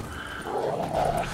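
Feral wild dogs in The Witcher 3: Wild Hunt give off a faint, brief yelping bark with a low growl, rising twice in quick bursts against a quiet background.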